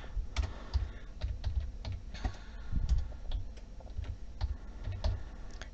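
Typing on a computer keyboard while filling out a Canadian Super Visa application form, with steady irregular clicks of keys close up, no talking over it.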